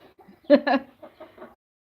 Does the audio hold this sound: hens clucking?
yes